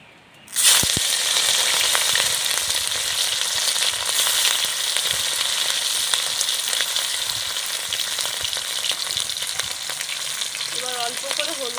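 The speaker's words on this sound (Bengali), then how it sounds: "ওই একই তেলে আমি চিংড়িগুলোকেও ভেজে নেব।" Shrimp frying in the same hot oil already used for potatoes, a steady loud sizzle that starts abruptly and holds broadband and unbroken for the rest of the clip, with occasional small pops and no talking.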